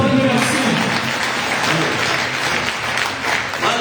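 A church congregation clapping together, dense sustained applause from many hands filling the room, with voices mixed in.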